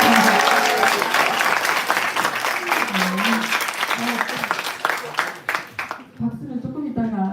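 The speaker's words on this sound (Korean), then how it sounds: "박수는 조금 이따가 하려고 했는데" Students at a Korean high school founding-anniversary event break into loud, dense applause. An amplified voice talks over the clapping, which thins out near the end as the speech continues.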